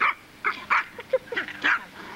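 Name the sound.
puppies barking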